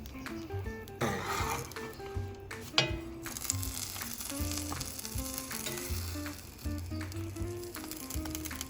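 Taco shell crisping in a hot pan, steady soft sizzling and frying with occasional scraping and stirring, fairly quiet and close, no talking.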